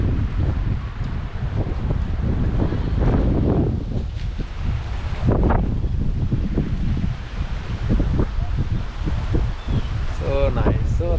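Breeze blows beside Lake Lanier, buffeting the microphone with low rumbling gusts and rustling, steady throughout with a brief louder surge midway and faint voices in the background.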